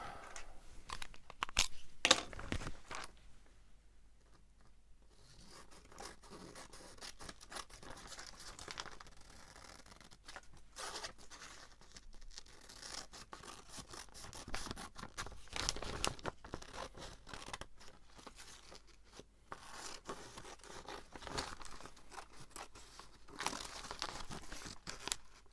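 Paper being cut and handled for a box journal, with dense crinkling, rustling and snipping clatter throughout, close and fairly faint, in irregular bursts.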